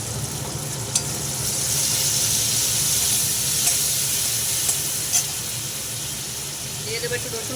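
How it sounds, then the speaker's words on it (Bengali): Chela fish curry with tomato simmers covered in a pot over low gas, giving a steady soft hiss and faint bubbling sizzle throughout, with a few light clinks. "গ্যাসটা একটু সিম করে দিলাম, ঢেকে দিলাম। টমেটোটা একটু সিদ্ধ হোক।"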